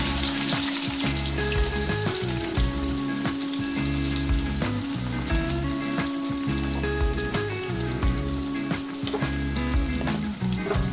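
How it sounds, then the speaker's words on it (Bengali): Chopped onion frying in hot mustard oil in a kadai for prawn masala gives a loud, steady, close sizzle with crackling spatter, lasting throughout with no talk. "কড়াইতে দিয়ে দিয়েছি সর্ষের তেল তেলও গরম হয়ে গেছে এবার আমি এর মধ্যে প্রথমে দিয়ে দেবো পেঁয়াজ কুচি"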